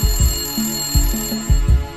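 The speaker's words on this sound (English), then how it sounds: "Can you answer the phone?" A telephone rings inside a kebab shop, giving repeated short low electronic pulses in quick pairs with steady tones underneath, fairly loud and close, and no one talks over it.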